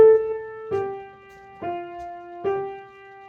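Piano playing a passage from Florence Price's March of the Beetles, a sustained low note under four struck notes at a slow, even pulse, close and clear with no talking.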